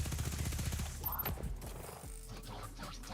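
Rapid gunfire from a fully emptied magazine in Destiny 2, a fast burst of shots that breaks off partway, then a lower rumble of weapon and game effects.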